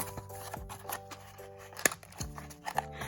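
Scissors snip through Disney Princess Ariel doll packaging, a few quiet close crisp cuts with light plastic rustling in between, no talking.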